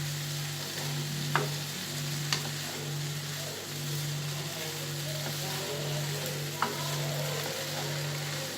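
Hashbrowns frying in oil in a skillet give a steady, close sizzle with a low hum underneath, broken by a few sharp clicks of a utensil against the pan.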